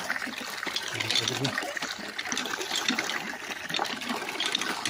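Water gushes and splashes steadily from the spout of a hand pump on a farm in Pila, Laguna, a continuous trickling pour close by with faint voices in the background.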